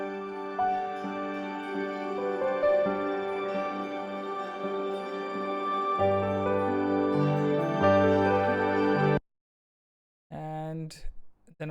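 Synth pad layered with basic strings in a song production breakdown, sustained chords shifting slowly, ending in brief silence and a short return of held notes.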